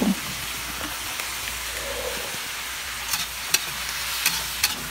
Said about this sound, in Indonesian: kemudian kita aduk-aduk lagi